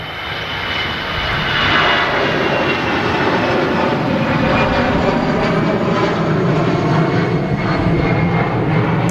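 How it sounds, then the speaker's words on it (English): An EasyJet airliner departing Manchester Airport produces a loud, continuous engine roar that stays broad and steady throughout, with no talk over it. "So EasyJet departing here."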